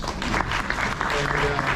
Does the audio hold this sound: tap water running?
no